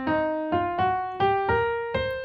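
Piano right hand playing a swung blues rhythm, six evenly spaced-out notes falling in a short-long pattern, each ringing and decaying before the next, played alone with no talking.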